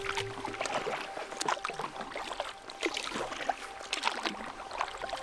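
Kayak paddle strokes at night in a Canadian archipelago, with water splashing and dripping in irregular bursts close by, no voices.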